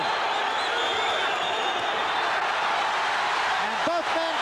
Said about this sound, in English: This crowd is so excited. It's as though a million people are in here.